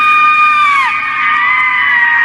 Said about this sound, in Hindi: तभी बाहर से काव्या की जोरदार चीख सुनाई दी।